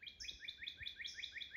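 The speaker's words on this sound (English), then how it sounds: "That's a hooded warbler." A hooded warbler sings in woodland, its bright, clear phrases repeating in a quick, steady series of rising and falling notes, close and fairly loud over faint background.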